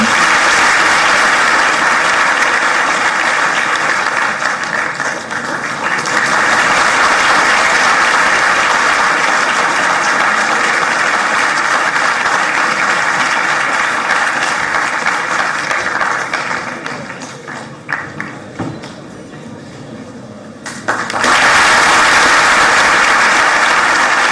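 At a Bhopal government event, an audience gives a long, sustained round of applause as Madhya Pradesh's Chief Minister Mohan Yadav is welcomed, loud steady clapping that thins and dips near the end before swelling again.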